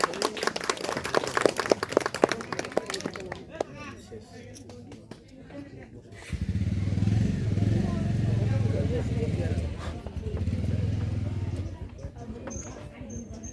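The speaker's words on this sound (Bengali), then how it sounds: "হাততালি দেব আমরা, হাততালি দিবেন।" Wedding guests clapping during a ring-exchange ceremony, a burst of dense close applause for several seconds that fades out, followed by a low engine-like rumble and faint voices.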